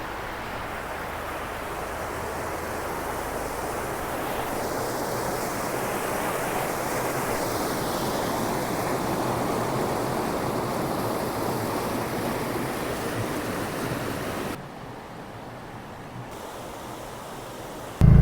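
A cold river flows with a continuous rushing wash of water. The sound stays steady and close, then drops slightly near the end.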